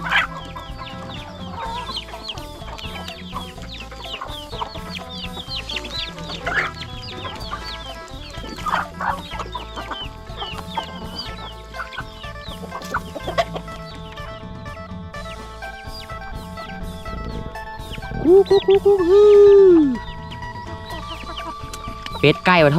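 Chickens cluck and chatter continuously around a rural yard, with occasional sharper calls and a louder drawn-out call near the end, while people talk in the background.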